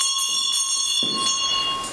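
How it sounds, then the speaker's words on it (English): A school bell rings steadily at a historical 1836-era schoolhouse reenactment on a fourth-grade field trip, a sustained bright metallic tone with a few softer knocks and shuffles beneath it. "The bell rings"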